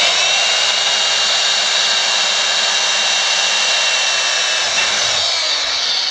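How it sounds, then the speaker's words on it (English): A power drill bores a pilot hole in a Jeep during a soft top installation, a loud, steady high-pitched whine held close and unbroken throughout, with no talking. "now I'm drilling the pilot hole"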